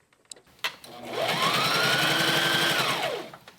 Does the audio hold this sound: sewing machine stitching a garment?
yes